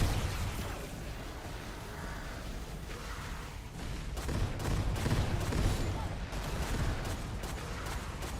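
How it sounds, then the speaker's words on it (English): A close-range gun firing rapidly in the isometric roguelite shooter ANVIL, heard as dense overlapping bursts of shots and impacts that stay loud throughout and grow thicker partway through, over a busy wash of game noise. "Oh shit, this is a close range gun."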